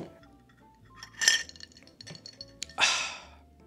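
Ceramic coffee cup and metal spoon clinking in a couple of bright, short bursts with quiet pauses between, close and moderately loud, with soft breathing in the background.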